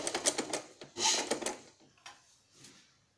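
Sewing machine stitching trouser fabric in short bursts of rapid mechanical clatter, a louder run near the start, then quieter intermittent taps and pauses.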